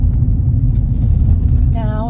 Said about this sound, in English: Try to ignore how loud my car is in the background.